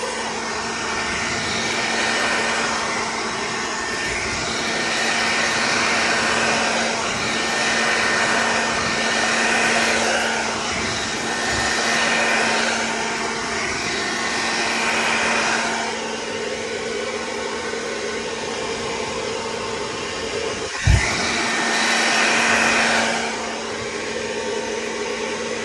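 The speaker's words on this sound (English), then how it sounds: "forgive me for the noise, is that you can just take your blow dryer" A hair dryer blows steadily with a constant whirring hum, one sharp knock partway through, no voices.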